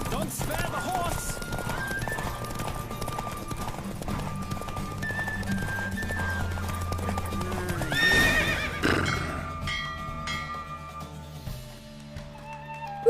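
A horse races at full gallop in The Witcher 3, loud rhythmic hoofbeats and several whinnies, then the pounding stops near the end as the music rings on.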